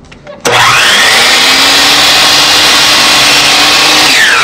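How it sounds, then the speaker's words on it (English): Compound miter saw cutting a small piece of wood: after a short click the motor spins up to a loud, steady high whine that holds for several seconds before starting to wind down, with no speech. "Let's take this over to the compound miter saw for cutting."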